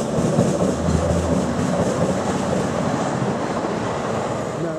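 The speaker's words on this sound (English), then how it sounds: "a cross-country train comes through" A CrossCountry passenger train runs through Kidsgrove railway station, a loud, close, continuous roar of wheels and engine with rhythmic rail clatter sustained from start to finish.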